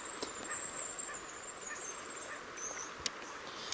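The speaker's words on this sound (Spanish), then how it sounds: "Pato." A duck honks and calls repeatedly at a distance on the water during a fishing outing, a faint nasal cry with one sharper note, heard alone over steady outdoor background noise.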